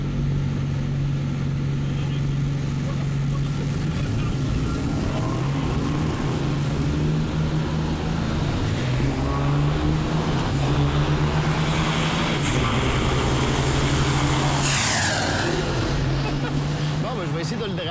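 A Ford F-250 pickup and an 18-wheeler truck drag race. Their engines make a loud, continuous roar with a steady low droning tone, while a French-speaking voice talks over it throughout.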